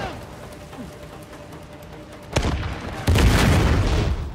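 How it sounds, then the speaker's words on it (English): An RPG round fired from a balcony in Uncharted: The Lost Legacy detonates in a sudden loud boom, followed seconds later by a second heavier blast with a lingering rumble over quiet ambience. "They got RPGs and snipers on the same freaking balcony."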